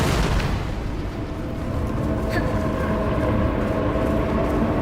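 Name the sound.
continuous explosions in a video game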